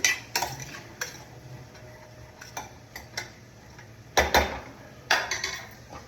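Shredded cabbage and vegetables for paneer momos stirred in a pan, with sharp metallic clinks and scrapes of a spoon at irregular intervals over a quiet background, some strokes louder and clustered together, no speech.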